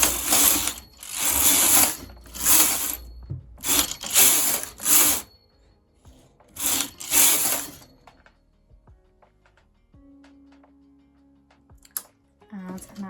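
A domestic knitting machine carriage swept back and forth across the needle bed in loud rattling bursts, knitting six rows of gold metallic viscose yarn for a manual tuck stitch, with pauses between passes and quieter clicks toward the end.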